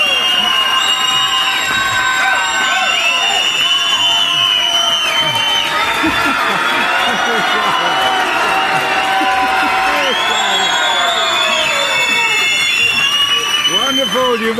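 A church congregation at a Sabbath service at The Great House of Yahweh cheers loudly and continuously, with whoops, shouts and scattered applause filling the whole stretch at a steady, close level.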